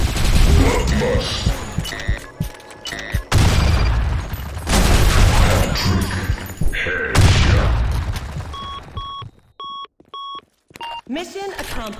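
Grenades going off in the online shooter Blackshot: several loud, heavy booms and bursts of gunfire crowd the first half, followed by a series of evenly spaced electronic beeps and a short rising tone.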